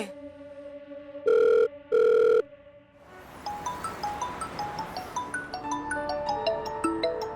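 A telephone rings twice in two short electronic bursts, followed by a bright, repeating ringtone melody that plays on steadily.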